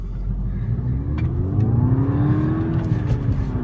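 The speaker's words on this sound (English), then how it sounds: "You can see a beautiful free revving engine." A 2011 Volkswagen Golf GTI engine revs up smoothly, the pitch climbing and then easing off, loud and close with no talking.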